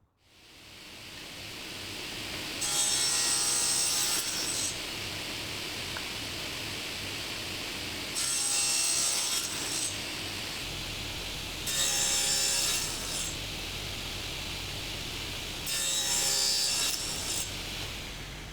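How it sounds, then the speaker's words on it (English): A saw cuts triangular plywood veneer tiles on a cutting sled in four loud, bright bursts of a few seconds each, with a steady motor hum running between the cuts. "while I'm cutting triangular tiles on the sled, I'll cut them for the 5th and final pattern"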